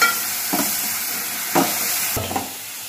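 Ginger garlic paste frying and being stirred in a pan for mushroom curry: a steady close sizzle with three short scraping stirs of a spoon against the pan, no talking.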